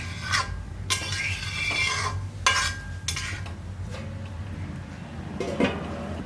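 Strained tamarind water poured into a simmering kuzhambu gravy and stirred, with repeated scraping and clinking of a spoon against the pot over a low bubbling background, close and without talk.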